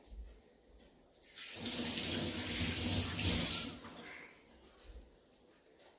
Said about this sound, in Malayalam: ഞാനേ കൈ ഒന്ന് കഴുകിയിട്ട് വരട്ടെ